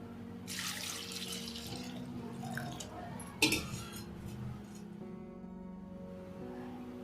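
Taro roots are washed under running water in a kitchen sink, with a steady trickle, soft splashes and one sharp clink partway through, quiet and without talk.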